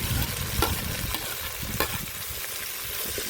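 Onions sizzle in hot oil in a pan while being cooked for a homestyle chicken curry: a steady, close, broadband frying hiss with a few brief scraping taps and no talking.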